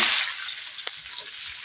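Onion and tomato frying in a pot for a village-style mutton curry, a soft continuous sizzle that fades slightly, broken once by a brief sharp clink midway.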